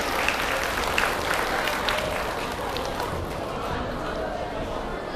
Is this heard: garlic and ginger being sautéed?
no